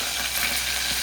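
Fenugreek seeds frying in hot oil for a fish curry give off a steady, close, hissing sizzle with no voices.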